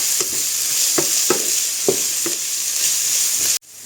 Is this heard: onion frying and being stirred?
yes